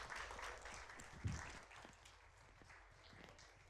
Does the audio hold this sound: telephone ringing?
no